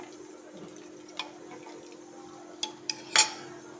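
Chicken curry is mixed in a pressure cooker pot, heard as a few sparse, light metallic clinks and taps of a spoon against the rim over a quiet, low background hum.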